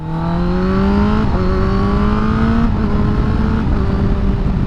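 A 2021 Kawasaki ZX-10R sport bike engine runs loud and steady on a test ride, its pitch climbing smoothly through two quick upshifts with brief dips between gears, no talk over it.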